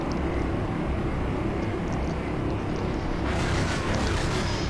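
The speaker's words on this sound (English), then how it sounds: "firing off their first salvo of rockets." Russian helicopters fire a salvo of rockets in WarGame: AirLand Battle, a steady loud engine-like roar with a harsher rushing burst toward the end.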